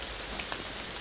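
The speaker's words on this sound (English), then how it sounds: "The small sound of the rain." Steady rain falling in a scene from the Clannad visual novel game, a soft continuous hiss of drops pattering on the ground, even and unbroken, with no voices.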